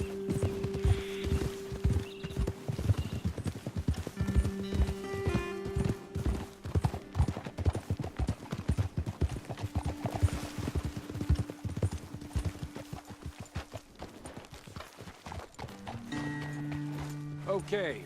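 Horse hooves clatter in a steady galloping rhythm, close and prominent, while voices talk intermittently above them, in the video game Red Dead Redemption 2.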